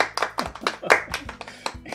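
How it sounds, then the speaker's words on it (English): A small round of applause from just a few people at home, several distinct, uneven claps close to the microphone over about two seconds, with someone talking faintly between them. "let's give Cherie a round of applause for even participating"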